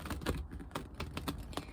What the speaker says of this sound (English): Let's just give them a little bit of a shuffle.